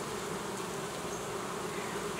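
Honey bees at a beehive entrance fitted with a small anti-robbing opening hum in a faint, continuous drone, with no voices.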